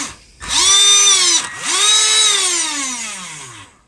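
A Traxxas Bandit RC car's electric motor, worn and suspected faulty, whines in two close bursts, each spinning up to a high pitch and then winding down, the second fading slowly.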